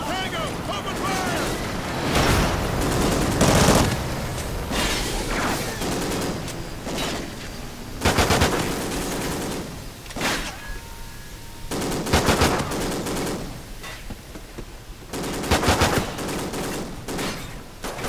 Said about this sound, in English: Multiple tango! Open fire!